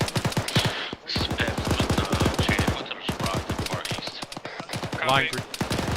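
Rapid automatic gunfire during CQB base-of-fire training, dense bursts of sharp shots crackling in quick succession, loud and close, with brief gaps and a voice speaking over the shooting near the end.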